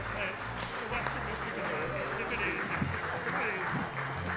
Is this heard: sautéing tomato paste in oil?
no